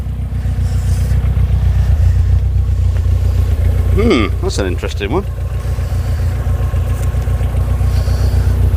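A Skoda Estelle 120 with a fault where the spark cuts out above certain revs: the engine idles steadily, then revs up in a quick, sputtering burst, stumbling and misfiring before settling back to idle, with people talking over it.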